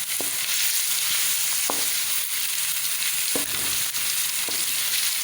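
A steady hiss of garlic-ginger paste sizzling in a hot pan, with a few soft scraping stirs breaking through the crackle.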